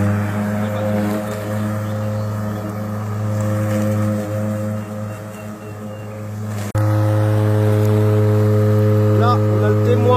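A Stihl battery lawn mower running in traction drive mode on a slope, a steady electric motor hum with strong tonal whine that jumps louder partway through, continuing evenly to the end.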